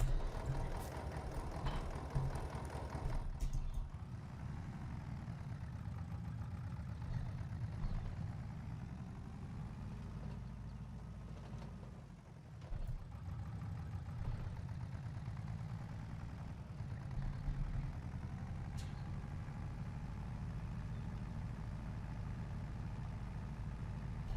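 A tractor engine idles in Farming Simulator 22, giving a steady low droning hum that dips briefly midway and then holds at an even, moderate level.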